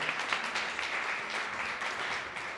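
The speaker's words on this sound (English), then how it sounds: "Let's give a round of applause." A small audience at a charter school wellness and self-care event gives a round of applause, a soft, steady spatter of clapping at a distance, with no talking during the brief burst.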